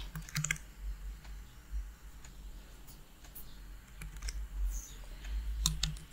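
Computer keyboard typing for a Ctrl F search, scattered soft key taps and clicks close by with a low hum beneath, coming in short irregular bursts with no one speaking.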